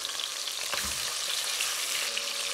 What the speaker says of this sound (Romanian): Ulei de floarea soarelui, punem pulpa de pui la prăjit.